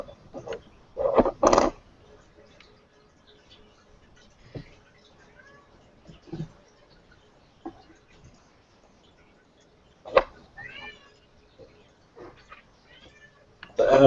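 A cat meows a few times, faint and brief, in a quiet room during a live draft broadcast, with sparse soft background noises between the calls.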